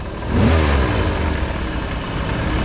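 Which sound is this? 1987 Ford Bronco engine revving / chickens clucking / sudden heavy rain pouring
1987 Ford Bronco engine revving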